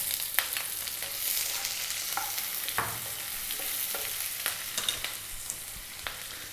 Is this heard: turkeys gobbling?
no